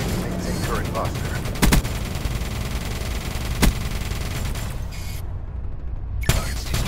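Gunfire from the Call of Duty: Black Ops III mission Mothership rattles on continuously, with a few sharp louder shots standing out above a dense roar of combat as game voices talk over it.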